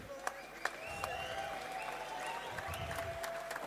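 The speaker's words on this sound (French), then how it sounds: "Applaudissez à Red." Crowd applause after a boxing match, continuous clapping at moderate distance with a few sharp individual claps poking through and faint voices underneath.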